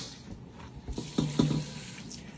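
Basmati rice is washed under running tap water in a short burst of splashing and trickling, with a few sloshing swirls as the grains are rinsed close to the microphone.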